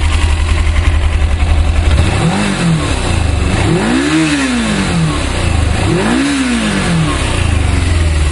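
A 1995 Suzuki GS500E motorcycle idles loudly, then revs three times in quick succession, each rise climbing and falling back, close by with no talking.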